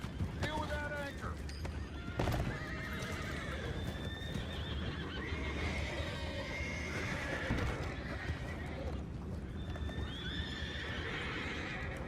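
Horses whinny and neigh several times among clattering hooves in Red Dead Redemption 2, with busy game action and voices talking throughout.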